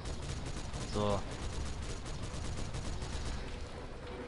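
Gunfire from the video game Ninja Blade, a dense burst of shots over loud continuous game action, with someone briefly speaking near the start.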